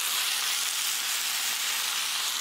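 A sausage skillet sizzles steadily as white beans go in with the browned fond, ahead of white wine for a Tuscan dish; an even, continuous frying hiss, close and unbroken, with no voices.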